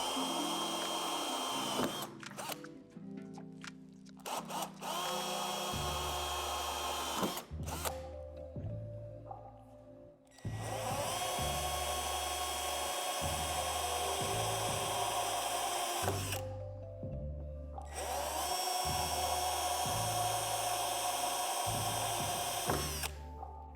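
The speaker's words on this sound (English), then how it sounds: "drill them out with the provided drill bit" A power drill whines loudly in long bursts, its pitch shifting as it bites into the metal door of a storage shed, with brief pauses and clicks between runs.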